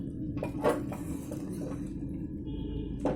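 A lid lifted off a cooking pot of mixed vegetables, with a few light metallic clinks and knocks of cookware, fairly quiet and close, no one talking.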